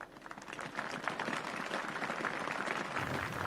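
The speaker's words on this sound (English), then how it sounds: "Tepid applause." Lukewarm, steady applause from an audience at a political address, a dense patter of many hands that neither swells nor fades over a few seconds.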